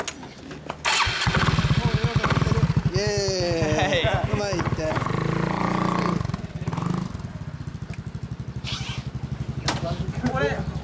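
A motorcycle fitted with a Yoshimura exhaust cranks and fires up, then settles into a loud, choppy idle with rhythmic pulsing close by, while people talk and cheer briefly over it.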